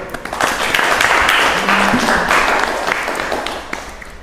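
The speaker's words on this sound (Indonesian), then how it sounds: "Mari kita beri aplaus." Applause from an audience in a university classroom during a journalism teaching session, a steady wash of many hands clapping that swells quickly and holds for several seconds before tapering slightly.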